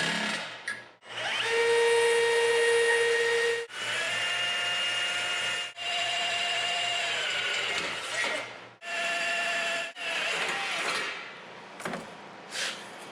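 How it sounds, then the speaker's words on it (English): A power drill whines in several long bursts, spinning up and down with short pauses between, loud and close. "let's drill some holes"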